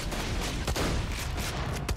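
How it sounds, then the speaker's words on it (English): Pump action shotgun firing in Borderlands 2, a loud continuous volley of blasts with a few distinct sharp reports standing out amid dense gunfire. "a pump action shotty gun"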